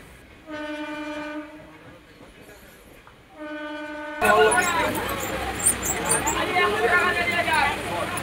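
A train journey heard from inside: a horn sounds twice near the start, then the rumble and rattling clatter of the carriage take over, loud and steady, with voices now and then.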